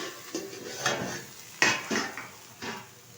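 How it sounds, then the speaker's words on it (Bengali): A pan lid is lifted off taro leaves cooking in oil, several light metallic clinks and knocks of lid and cookware, close and fairly quiet, with one sharper clank in the middle. "ঢাকনাটা তুলে দিচ্ছি।"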